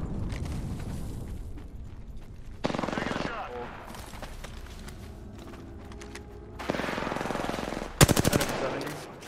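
Bursts of rapid automatic gunfire from an Apex Legends match, including two sustained volleys and a sharp loud burst near the end, over a continuous game background with occasional voice.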